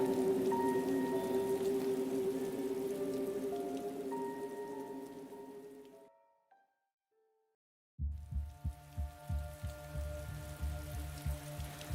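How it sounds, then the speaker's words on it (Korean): Steady, dense rain pours down, then a brief near-silence for about two seconds before heavy rain returns with low, thudding drumming on a surface. "비는 계속 쏟아지고"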